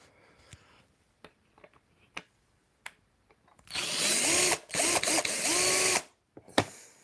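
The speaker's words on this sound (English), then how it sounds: "put your drill in there like that" A power drill bores into a wooden picture frame, whining loudly for about two seconds with a brief pause, after scattered light taps and handling knocks.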